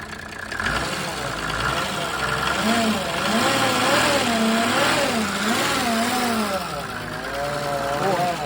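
A loud Mercedes OM603 diesel engine driving a PN-40 water pump revs up and down repeatedly, its pitch rising and falling in waves over a steady rumbling idle, with voices talking in the background.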